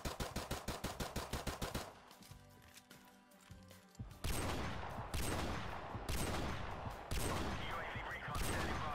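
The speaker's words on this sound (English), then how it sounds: "I told him I'll be shooting my pistol in the air when we are ready." Rapid pistol shots fired into the air in Call of Duty 4 Remastered, a quick string of about a dozen sharp cracks, then a pause with low rumble and a second burst of heavy, dense gunfire sounding close and loud.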